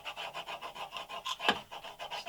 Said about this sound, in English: I actually have a burnishing tool. So that will make sure that the masking tape doesn't lift.